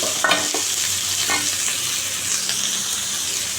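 Onion and chili sizzle and fry in a pan while being stirred. The crackle is steady and close, with a few scraping stir sounds and no talking.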